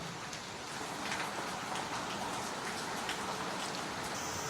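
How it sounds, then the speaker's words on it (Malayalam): Heavy rain falls at night in northern Kerala, a dense, steady hiss of drops hitting surfaces, continuous and fairly close with no voices. "രാത്രി 10 മണിക്ക് ശേഷവും മഴ പെയ്തുകൊണ്ടിരിക്കുകയാണ്"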